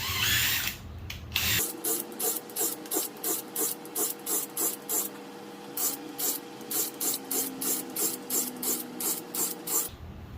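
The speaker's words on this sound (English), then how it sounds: "Now we can drill more holes" A power drill bores shelf pin holes into wood in a steady series of short, evenly spaced bursts, each a brief grinding whir, repeated over a dozen times.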